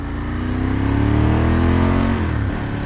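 A 1995 Ducati 916 motorcycle engine revs loud and close, its deep throbbing note rising in pitch and then dropping back near the end, with no voices over it.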